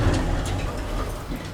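Vintage Otis Lexan hydraulic elevator motor running on the way up, a steady low hum and rumble filling the car at moderate volume with no talking.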